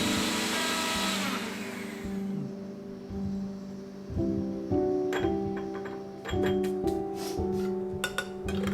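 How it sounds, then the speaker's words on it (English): Electric grinder whirring as roasted, crisp stale bread is ground into breadcrumb powder, a steady motor hum that cuts off, then restarts in short pulses with light rattling. "Then grind it into a powder."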